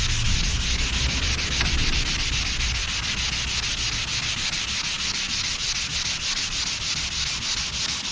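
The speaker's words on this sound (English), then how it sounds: "So you want to go like this. That way as you go across, the sand, the dust falls out from behind the sandpaper." Hand sanding with sandpaper makes a steady, close, continuous rasping rub with a fast regular back-and-forth rhythm, alone and without pause.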